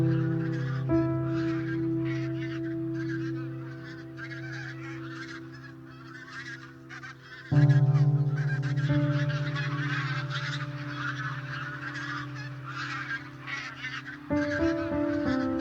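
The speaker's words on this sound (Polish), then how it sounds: "Patrz, lecą gęsi." A flock of geese honking continuously overhead in flight, loud layered calls with a steady droning chorus that swells and shifts as the birds pass.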